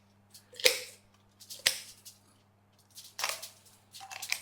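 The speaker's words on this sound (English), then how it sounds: "So we're going to cut. You've got a pair of scissors." Kitchen scissors snip and crunch through the backbone of a whole raw chicken being spatchcocked. Several separate sharp cuts land at irregular intervals, close and fairly quiet against a low electrical hum.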